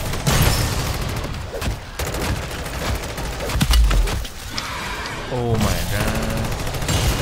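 M16 rifle fire in the Modern Warfare 3 Zombies game mode, rapid automatic bursts mixed with in-game effects while a player talks excitedly over the shooting.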